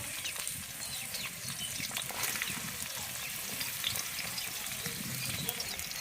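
Thinly sliced onions fry in hot mustard oil with a steady, dense crackle and sizzle, close and continuous, with occasional stirring and no voices.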